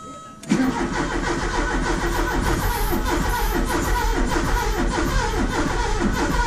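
A car engine cranks over and catches, a steady loud mechanical churn running from just after the start to the end, with faint voices mixed underneath.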